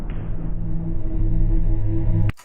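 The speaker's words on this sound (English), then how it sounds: "The Gray soundtrack, the Half-Life 2 mod, I made the theme for" Theme music from The Gray, a Half-Life 2 mod soundtrack: a steady, droning synth score with sustained low tones and a dense midrange that stops abruptly near the end, with no talking.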